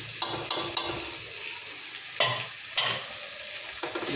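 Koi fish frying in a pan with chilli powder, stirred with a utensil, giving several sharp scraping strokes over a steady close sizzle.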